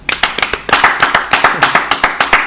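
Studio audience on a live television show clapping in a sharp, rhythmic unison beat, loud and close, with evenly spaced claps throughout.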